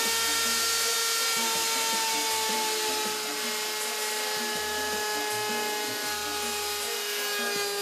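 A router on a router table cuts a quarter-inch round-over along the edge of a carved wooden welcome sign, a steady loud high motor whine with rough cutting noise and brief low thumps throughout, no talking.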